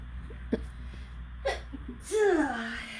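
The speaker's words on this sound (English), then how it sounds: "Uh-oh, I gotta sneeze." A couple of sharp inhaled gasps build up, then a loud close sneeze with a falling, drawn-out vocal tail.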